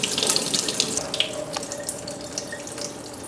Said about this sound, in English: Go ahead and add some more water to that.